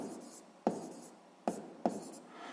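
A pen writes on paper during a sixth-grade maths exercise, with steady soft scratching broken by three sharp taps, close and quiet.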